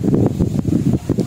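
Strong gusts of wind blowing outdoors, a steady rushing roar that swells and dips in rapid buffets, loud and close as if hitting the microphone.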